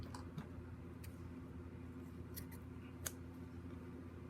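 A few sharp snips of scissors cutting free a small rose quartz piece, quiet and close, spaced irregularly over a low steady background hum.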